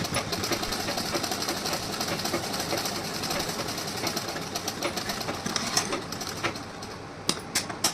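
Sewing machine stitching a blouse seam, a steady continuous whirring drone that runs throughout, with a few sharp clicks near the end.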